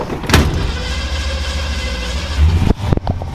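A 1968 Ford Mustang drives past at close range, its engine a steady low rumble that swells near the end and then cuts off, with faint clicks in the last moment.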